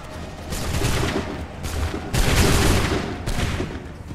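Musket volleys from soldiers in the video game Assassin's Creed 3, several loud rolling bursts of overlapping gunfire, each sustained for about a second, with brief gaps between them.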